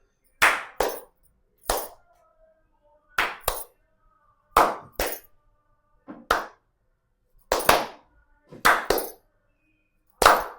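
Sharp hand claps from two people in a timed challenge land in uneven pairs and small clusters, close and crisp, with near-silence between them.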